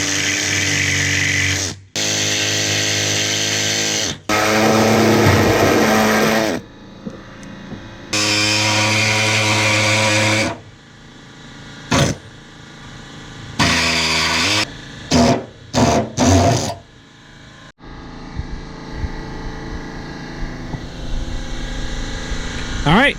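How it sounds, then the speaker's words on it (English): A body saw cuts rusted metal sections from a vintage Porsche 911 Targa in several loud, harsh bursts, separated by gaps and scattered knocks and clatter. "we'll grab our body saw, and we'll get these sections cut out"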